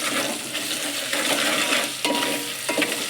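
Ginger garlic paste fries in oil in a pan for a Telangana mango egg curry, a loud close sizzle with metallic spoon scrapes and clinks against the pan as it is stirred.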